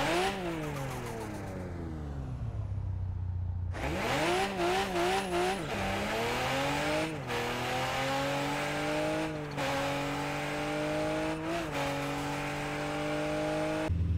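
A Toyota Supra MK5 in Car Parking Multiplayer revs hard and alone, its engine climbing and dropping through repeated bursts, with loud sustained revving and sharp shifts between pulls.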